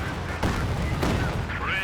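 Rocket barrage from a Katyusha launcher in Company of Heroes 2: quick booming blasts and whooshing over dense battle noise in a short burst, with a voice over the top.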